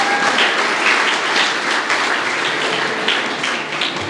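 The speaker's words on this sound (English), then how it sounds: "Would you give them a round of applause for all that they do?" An audience at a Rotary Citizen of the Year event applauds town board members with a loud, dense burst of many hands clapping, sustained and fairly close throughout.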